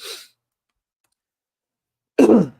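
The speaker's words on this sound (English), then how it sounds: "I just want to cough it out." Two short, sharp coughs separated by a second or two of silence, close and fairly loud, the second one fuller than the first.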